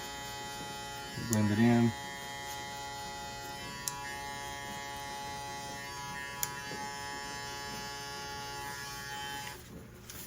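Hair clipper buzzing steadily while cutting and blending a fade, a constant electric hum throughout, with a man's brief speech near the start.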